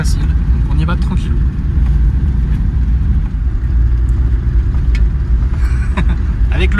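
An off-road vehicle rolls slowly along an easy dirt track in the Bardenas, its engine a loud, steady low rumble from inside the cab with occasional bumps and rattles, while voices talk over it.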